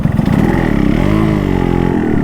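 Yamaha RX135 motorcycle engine running steadily while riding, a loud, close two-stroke drone with a fast pulsing beat and slight pitch swells throughout, no talking.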